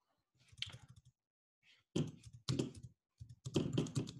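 Typing on a computer keyboard, soft close key clicks in short irregular bursts separated by pauses, with no talk.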